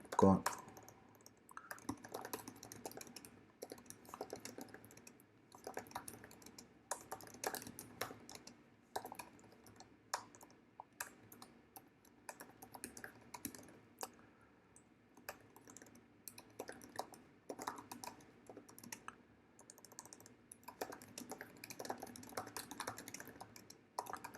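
Computer keyboard typing in short irregular bursts of clicks while a WordPress contact page is edited, fairly close and soft, with a person talking over much of it.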